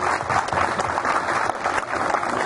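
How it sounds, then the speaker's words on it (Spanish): Crowd at a mayoral candidates' political debate in San Alejo bursting into loud, dense applause, a continuous wash of many hands clapping throughout, no speech over it. "quiero que me regale un fuerte aplauso para Jesucristo"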